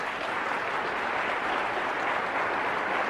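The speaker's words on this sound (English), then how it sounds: "you can applaud." A seated audience at a motivational talk claps together, a dense, steady wash of applause throughout, moderately loud and fairly close, with no voices over it.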